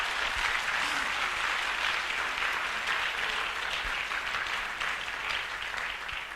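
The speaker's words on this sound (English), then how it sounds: "Let's clap for ourselves because we are all winners here." Audience applause at a university-hosted success summit, a dense, sustained round of clapping from a large crowd, loud and even throughout before easing slightly at the end.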